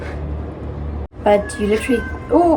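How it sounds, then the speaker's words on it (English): A domestic cat meows a few times in a kitchen during banana bread baking, close and fairly clear, following a sudden brief gap and overlapping with someone talking. "that's my cat."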